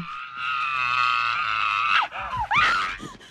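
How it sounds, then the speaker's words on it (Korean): A woman in a horror film scene screams in terror, a loud sustained shriek followed by broken, wavering cries and gasps, close and alone. "공포에 질려서 소리를 지르는데요."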